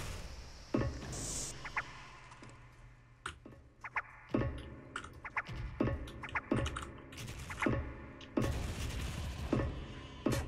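Rapid clicking keystrokes on a computer keyboard during a Special Force game, arriving in bursts and quick clusters with short pauses, close and fairly quiet, with no talking.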